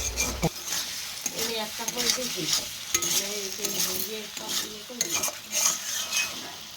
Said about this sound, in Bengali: তো ভালো করে আমি নেড়ে ভালো করে কষিয়ে নিলাম